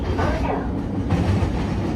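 Rail train in Kuala Lumpur heading into KL Central, a steady low rumble and rolling hum of the carriages throughout, continuous and fairly close with no clear clacks.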